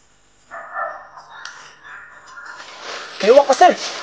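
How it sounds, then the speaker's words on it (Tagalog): Harsh crow caws ring out toward the end, a few loud rasping calls over faint background noise and a voice. "May uwak, Pastor!"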